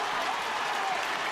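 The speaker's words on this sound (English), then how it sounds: "Brian Dooher gets a cheer every time he touches the ball" Applause and cheering fill a stadium after a score at a Tyrone versus Derry Ulster Championship Gaelic football match. The crowd noise is loud and continuous, a dense wash of clapping across the whole moment.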